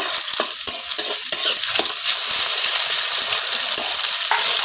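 An egg sizzles and spits in a hot pan, with quick scraping and tapping of a utensil stirring it; loud, close and continuous.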